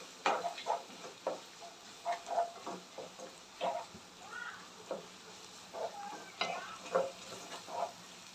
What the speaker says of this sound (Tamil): பூண்டும் சேர்த்து நல்லா வதக்கி கொடுங்க.